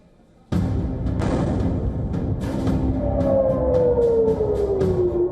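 An air raid siren sounds during Israeli strikes on Iran: a loud, sudden wash of noise cuts in, then a wailing tone slides steadily downward over the din.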